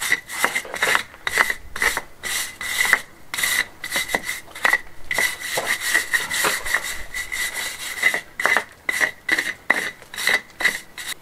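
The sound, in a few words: rubbing out lime mortar cracks on a wall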